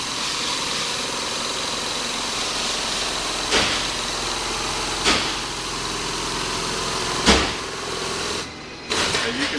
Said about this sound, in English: The hydraulic ram is air powered. You'll be able to hear it move that component.